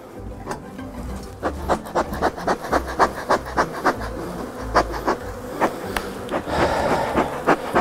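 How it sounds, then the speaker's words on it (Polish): Honey bees swarm around a honey extractor loaded with frames near an apiary, making a loud, steady buzz close by with a rapid series of regular ticking knocks running through it. "Pszczoły od razu wyczuły, że mają gotowy produkt do wzięcia do ula."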